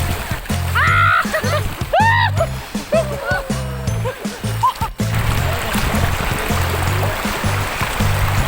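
Water splashes and sloshes around people bathing outdoors, with a steady rushing stream underneath, while voices talk and call out over the splashing.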